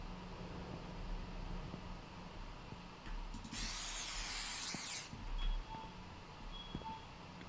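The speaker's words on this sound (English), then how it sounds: "You spray them and then they no longer exist in reality." In a dark video game, a spray can fires at rats with one sharp hiss lasting about a second and a half, set against a quiet background of faint ticks and clicks.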